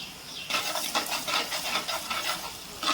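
Ground masala paste fries in a pan, a bright continuous sizzle with rhythmic stirring scrapes, close up and alone without voices.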